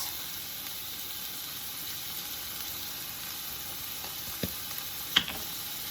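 Chicken fajita vegetables cooking in a hot pan give off a steady, quiet hiss of sizzling, broken by a couple of brief clicks and scrapes near the end, with no talking.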